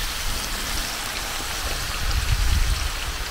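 Steady splashing of water being poured into a pot, with a broad hiss that swells briefly near the end.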